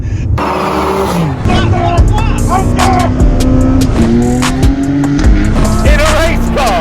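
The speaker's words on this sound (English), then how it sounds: "In a race car." A car accelerating hard with rising engine tones and squealing tires, loud and continuous, with excited voices shouting over it.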